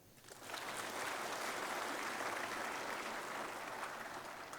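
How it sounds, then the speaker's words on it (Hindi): A crowd of families at a military retirees' honour ceremony claps loudly and steadily, the dense applause swelling in quickly and holding even to the end. "उन सब के लिए आप एक बात जोर की ताली बजाइए"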